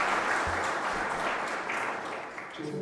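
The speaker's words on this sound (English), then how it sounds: "so we could give them a round of applause." Conference audience in a large main room giving a round of applause, a dense, steady wash of clapping that tapers slightly toward the end.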